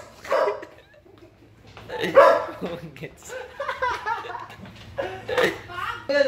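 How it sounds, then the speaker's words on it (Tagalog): A dog barks a few times amid people talking and laughing close by. "Ingay ng aso."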